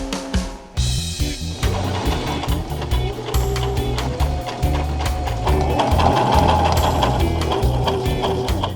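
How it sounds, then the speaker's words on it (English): A sewing machine stitches seams on a thrifted garment, running as a fast, steady, close mechanical rattle that continues throughout with no talking. "I need to sew a little further in on the top part so that it's not like gaping."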